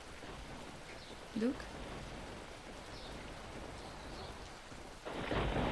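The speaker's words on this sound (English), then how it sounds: "Thunderstorm, huh?" Thunderstorm in the video game Into A Dream: a steady wash of rain hiss throughout, with a heavier surge of rain or rumble near the end, while a voice briefly speaks.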